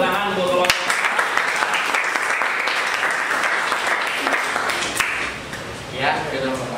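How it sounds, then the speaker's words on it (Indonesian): A classroom audience applauds a student group in a dense, sustained round of clapping that carries on for several seconds before tapering off, with a voice heard near the end. "berikan tepuk tangan untuk kelompok"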